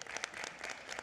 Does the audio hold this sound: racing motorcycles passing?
no